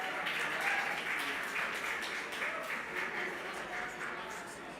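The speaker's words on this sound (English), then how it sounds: "So a big clap to Dr." An audience at an award ceremony applauds steadily throughout, a dense continuous wash of clapping at moderate distance, with some talk faintly mixed in.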